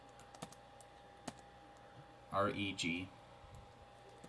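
Keys on a computer keyboard tap in a few scattered, light clicks near the microphone, with a brief spoken word partway through.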